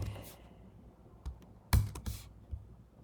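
Scattered keystrokes on a computer keyboard come in short irregular bursts of clicks, close and fairly quiet, with brief gaps between presses.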